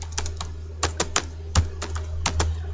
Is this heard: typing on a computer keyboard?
yes